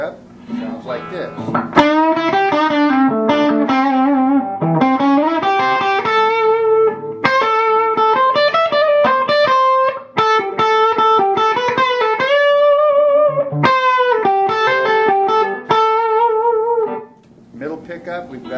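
A Blockhead First Born solid-body electric guitar played on its bridge pickup with low-output humbuckers, loud, with distorted melodic runs and sustained bends throughout, a brief dip near the end.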